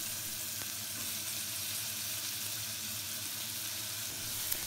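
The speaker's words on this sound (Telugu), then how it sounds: "కరివేపాకు వేసి కొంచెం కారం వేసి ఈ పొటాటోస్ని అందులో ఫ్రై చేస్తాను అనమాట" Potatoes frying in oil with curry leaves and chili powder, making a steady, even sizzle that runs throughout at moderate level, with no talking.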